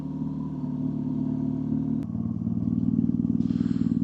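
BMW R nineT motorcycle fitted with an Akrapovic exhaust and Jekill & Hyde valve, idling nearby with a steady, loping exhaust burble, a brief sharp click partway through, then a slightly rougher, louder note.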